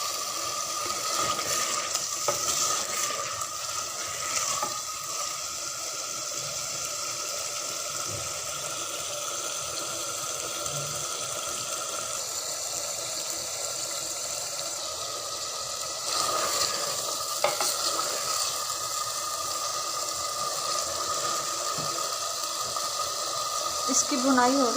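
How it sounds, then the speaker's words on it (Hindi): Chicken and potatoes sizzle and fry in a pot for shorba, a continuous hissing crackle with occasional scraping stirs throughout, close and steady, while a person speaks at times over it. "इसकी भुनाई हो रही है"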